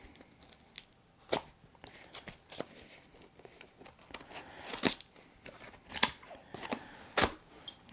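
A vinyl record package is cut open, with faint crackling plastic, small cuts and rustling coming in irregular bursts, quiet and close.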